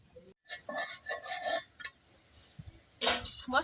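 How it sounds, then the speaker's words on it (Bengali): A spatula scrapes and clinks in a pan while spice paste for a rural village curry is stir-fried, bursts of metallic scraping with short pauses, close and moderately loud. "শীতল আমি খুব ভালো করে কিছুক্ষণ কষাই নেব।"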